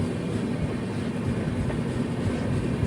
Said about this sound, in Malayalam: ട്രെയിൻ ഇപ്പം ഇതാ തൃശ്ശൂർ റെയിൽവേ സ്റ്റേഷനിലേക്ക് എത്തുകയാണ്.